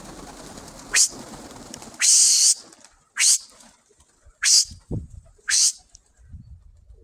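Red and blue-barred Mykolaiv tumbler pigeons are released near Zhytomyr, with five sharp bursts of wingbeats clapping in short spaced flurries, close and loud, plus a soft low call between them.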